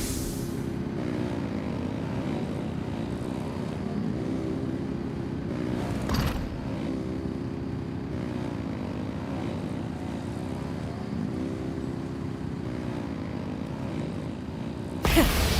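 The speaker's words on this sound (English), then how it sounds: "Rev the engines!" Aircraft engines run at full throttle in a video game, a steady droning propeller roar holding for the whole stretch, with a brief burst near the middle and a sharper swell at the very end.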